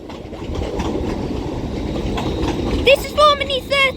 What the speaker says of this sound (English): London North Western Railway service from London Euston, which will terminate here at Crewe